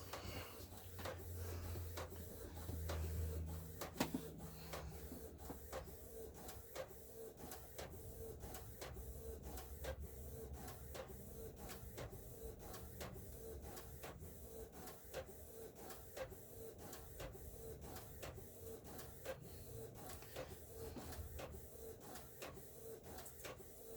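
A printer runs quietly and steadily, with rapid regular clicks ticking over a soft mechanical hum throughout.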